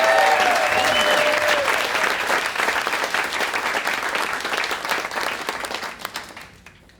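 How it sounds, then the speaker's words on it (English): A stand-up comedy audience claps warmly at the end of the set, dense applause holding strong before tapering off and fading out in the final second. "Give yourselves a round of applause for hanging out."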